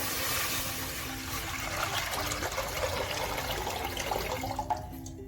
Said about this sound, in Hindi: सबसे पहले पतीली में हमने पानी डालना है।